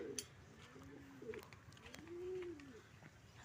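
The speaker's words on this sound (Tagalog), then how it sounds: "Testingan natin silang pakawalan kung makakasabay ba siya sa mga ibon natin." Pigeons coo softly and a few wing flutters sound as the birds are released outdoors, faint and somewhat distant over light background noise.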